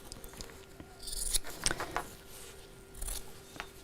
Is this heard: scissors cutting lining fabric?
yes